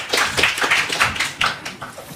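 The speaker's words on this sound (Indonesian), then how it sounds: "Tepuk tangan untuk mereka berempat." An audience at a Christian–Muslim religious debate claps its hands. The claps are few and sparse, close and crisp, in an uneven patter lasting about two seconds.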